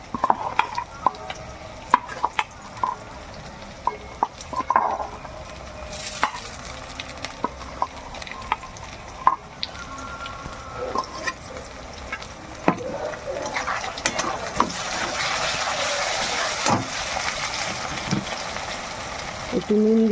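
Ground ginger, garlic and cumin paste goes into a pan with tomatoes while chicken cooks, producing continuous stirring and scraping with a sizzle that grows louder and brighter toward the end.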